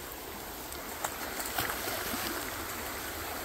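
A creek flows in a soft, continuous rush of running water, fairly faint and steady, with a few small splashy ticks near the middle and no talking.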